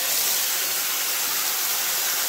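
Ground spice paste hits hot oil in a wok for a fish roe curry with potato and pointed gourd, letting out a loud, dense, continuous hiss that stays even throughout, with no talking.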